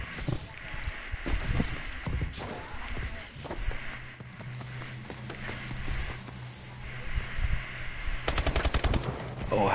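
Rapid automatic gunfire in the multiplayer shooter Call of Duty: Advanced Warfare during a 3v3 esports match, with scattered bursts early and a tight fast volley near the end, plus footsteps and game ambience between.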